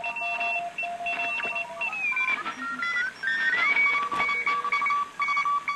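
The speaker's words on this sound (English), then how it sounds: "CW reception on 40 meters." Morse code CW signals tuned in on the 40-meter band through a Hammarlund HQ-160 shortwave receiver: steady keyed tones at several pitches overlap and drift, beeping in rapid dot-dash patterns over a constant hiss of band noise.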